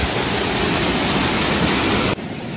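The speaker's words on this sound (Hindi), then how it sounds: "देखो सामने देखिए कितनी तेज़ बारिश हो रही है" Heavy monsoon rain and mountain runoff near the Dharchula India–Nepal border in Uttarakhand, a dense, loud, unbroken roar of falling and rushing water that drops off abruptly near the end.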